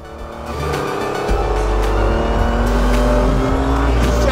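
A Renault Sport RS01 race car at Silverstone runs flat through a right-hand corner, its engine a loud, close, sustained roar that climbs in pitch, with brief shifts or tire noise mixed in.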